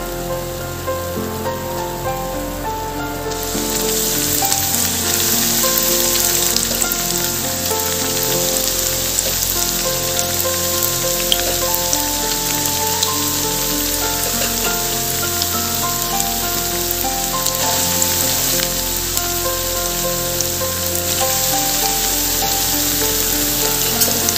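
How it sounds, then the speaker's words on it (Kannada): Bread slices for Hyderabad-style double ka meetha fry in oil with a steady, loud, dense sizzle that holds evenly for the whole stretch, close and continuous without any voices. "ಮಿಕ್ಕಿದ ಸ್ಲೈಸಸ್ನ ಇದೇ ಥರ ನಾವು ಎಣ್ಣೆಯಲ್ಲಿ ಫ್ರೈ ಮಾಡ್ಕೊಳ್ಳೋಣ."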